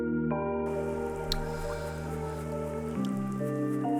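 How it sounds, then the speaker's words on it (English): Steady rain dripping and pattering in the video game Crypt Custodian, soft continuous drops over a sustained musical background, no voices. "So nice to come here and escape the rain."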